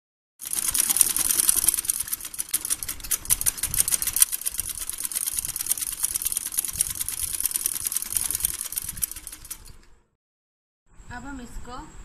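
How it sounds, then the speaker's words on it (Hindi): Sewing machine stitching fabric for a small girl's frock, a steady fast mechanical whirring and ticking that runs for about ten seconds, then stops; a faint voice follows briefly after the machine goes quiet. "अब हम इसको सीधा करके यहाँ पर एक सिलाई लगा लेंगे।"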